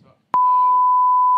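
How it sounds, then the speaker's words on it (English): A loud, steady censor beep cuts in after a brief murmur of talk and holds as one continuous tone to the end. "they can hear me talk through the beep"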